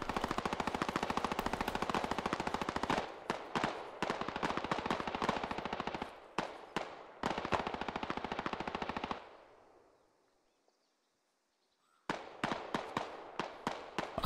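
Automatic rifle fire in a tactical military shooter game rattles in long, rapid bursts, loud and close, with brief gaps and a pause of a few seconds before firing resumes.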